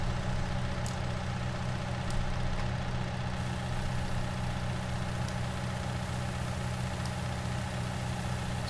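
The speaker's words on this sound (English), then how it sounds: "The New Holland tractor is probably almost finished the field." A New Holland tractor engine working a field in the Farming Simulator 19 game gives a steady, continuous low drone with a constant hum, unchanging and alone, with no talk.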